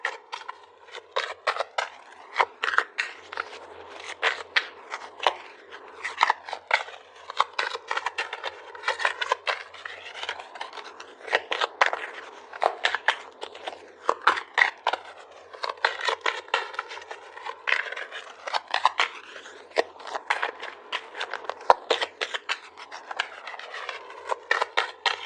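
Tarot cards being shuffled, handled and pulled from the deck, with dense papery flicks, slides and riffles running continuously and close up, unbroken by speech.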